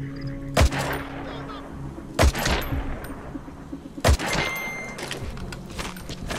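Three sharp, loud gunshots in Metal Gear Solid V, spaced roughly two seconds apart over a low ambient game background with faint hum.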